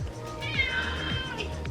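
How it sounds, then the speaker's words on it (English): A house cat in a humidor room gives a couple of drawn-out, rising and falling meows, close and clear over a faint room background. "My cat is in the humidor room."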